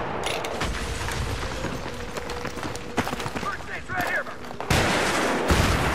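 Bursts of gunfire in a team shooter video game, with rapid rattling shots and a louder booming burst near the end, under excited voice chat between players.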